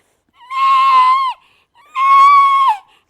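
A performer's voice imitates a goat bleating on stage, two loud, wavering nasal bleats of about a second each with a short pause between, close and unaccompanied.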